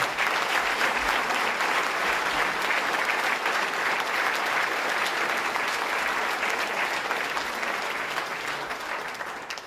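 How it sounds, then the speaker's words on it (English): Sustained audience applause for award winners at a state government event promoting New York wines, a dense, steady wash of many hands clapping that holds strong and only slightly fades toward the end. "Let's have another round of applause for all our winners tonight."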